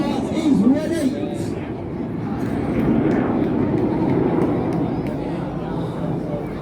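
Red Arrows jet passing during an Armed Forces Day flying display at Ryde on the Isle of Wight, a steady loud roar sustained throughout over crowd murmur and a commentator's voice.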